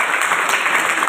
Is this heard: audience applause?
yes